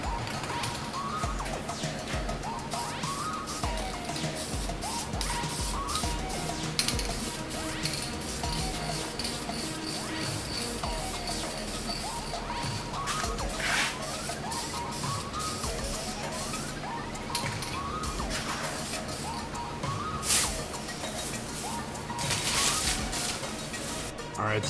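A spray can lays a second clear coat on brake calipers from a Legacy GT, with steady hissing bursts over a busy, dense backdrop of loud music throughout.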